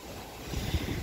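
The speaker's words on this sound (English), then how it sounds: "It's windy." Wind blowing outdoors beside the water, a soft low rumble and buffeting against the microphone that swells briefly, quiet and with no voices.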